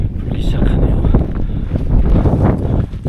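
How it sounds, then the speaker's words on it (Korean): Strong wind roars steadily near the summit of Hallasan on Jeju during a rainy mountain hike, buffeting the microphone with dense rumbling gusts, and a voice is faintly heard under it. "이제 바람이 불기 시작하네요."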